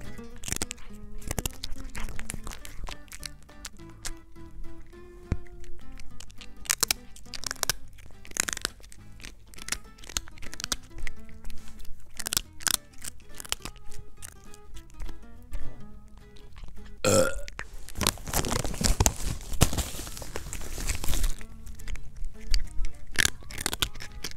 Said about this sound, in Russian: Только послушайте, как она аппетитно хрустит сухарики.